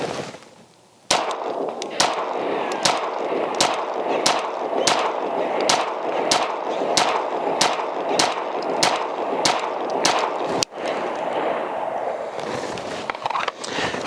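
Shots from a ported Atlas Ares Commander pistol ring out at a steady cadence, about fifteen sharp, loud, close reports spaced roughly half a second apart, with a brief pause before the final few. No voices.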